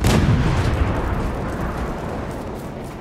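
Enemy artillery fire in the World War 3 shooter, a loud heavy blast at the start followed by a long rumbling roar that slowly fades out.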